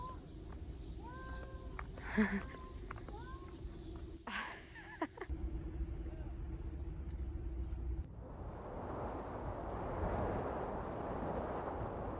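A cat meows a few times in short, rising calls over a steady low rumble, followed by a stretch of broadband hiss.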